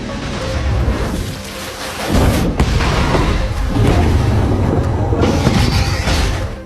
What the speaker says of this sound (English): At this critical moment, another explosion rang out